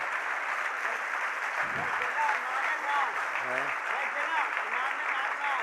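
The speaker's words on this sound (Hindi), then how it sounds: "ये तालियां बजाते रहो" Audience applause at a spiritual discourse by a spiritual leader, a steady dense clapping wash that holds throughout, with some speech-like voices mixed in.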